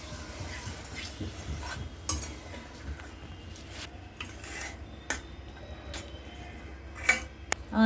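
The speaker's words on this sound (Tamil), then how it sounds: "காய்ச்சின பால் கொஞ்சம் வச்சுட்டு அந்த ஒரு 3/4 கிளாஸ் இருக்கும், அந்த பால் ஊற்றி கிண்டுறணும்." Milk stirred into red pasta sauce paste in a pan, with a spoon scraping and rubbing against the pan in steady strokes and a few sharp clinks, fairly close and alone.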